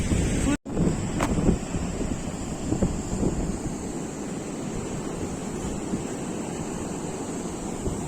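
Surf rolling onto a deserted beach on Réunion island, a steady broadband wash of waves with wind buffeting the microphone, continuous and fairly close, no talk.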